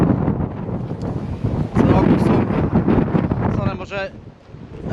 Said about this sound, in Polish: strasznie, strasznie wieje